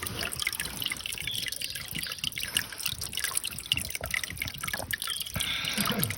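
Water drips and trickles beside a mountain trail on the climb up Kumara Parvatha: a steady close patter of drops and thin running water, fairly soft and continuous, with no talking.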